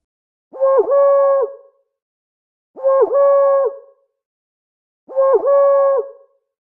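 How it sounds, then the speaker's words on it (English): An owl gives three evenly spaced hoots, each a long, clear, slightly wavering call, close and loud against silence. "Owl."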